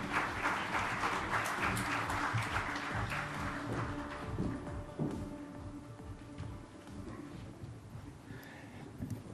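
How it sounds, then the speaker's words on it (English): A conference audience at a crypto event claps, loud and dense at first, then thinning out and fading into scattered claps and room noise. "Can we have a huge round of applause,"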